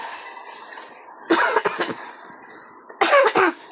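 Two loud bursts of harsh coughing, close to the microphone, separated by a pause over faint background noise.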